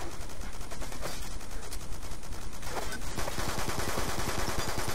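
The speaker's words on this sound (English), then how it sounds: "That's a modded gun." Rapid, relentless automatic fire from a modded gun in Black Ops 2 multiplayer, dense overlapping shots and impacts filling the whole stretch at constant loudness.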